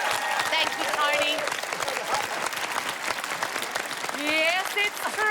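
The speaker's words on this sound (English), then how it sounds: "Keep the applause going for the brilliant Tony." Studio audience applauding on an Australian comedy panel show at Christmas, a loud, sustained wash of clapping with cheers, nearly alone, swelling again toward the end.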